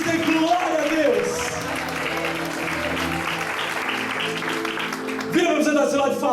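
Church congregation clapping together in a sustained round of applause, loud and steady, with a voice speaking and music tones over it.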